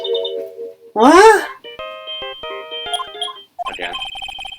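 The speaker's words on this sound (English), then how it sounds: "I know that song on your phone was playing when it rings." Melodic phone ringtone from the Phoenix Wright game, playing a bright, stepped electronic tune that sounds twice. A brief spoken exclamation and a short vocal burst come between the two plays.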